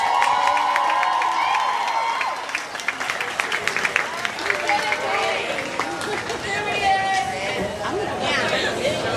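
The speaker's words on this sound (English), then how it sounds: "How about a big round of applause for our graduates" A graduation audience breaks into loud, sustained applause and cheering, with whoops and crowd babble rising over the clapping throughout.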